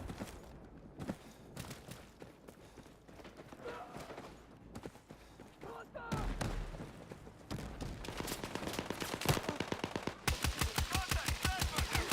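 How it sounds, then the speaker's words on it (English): Rapid automatic gunfire in the shooter game Battlefield 6, dense overlapping bursts that build into a sustained, loud stream of evenly spaced shots near the end, with no talk over it. "Am I shooting at an ally?"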